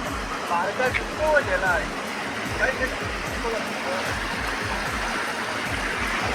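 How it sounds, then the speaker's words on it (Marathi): Muddy water rushes steadily along a stream during a fishing outing, a continuous broadband wash that fills the whole stretch, with faint voices rising briefly in the first half. "पाणी बघा पाण्याचा कलर तुम्हाला दिसत असेल किती घाण पाणी येतोय"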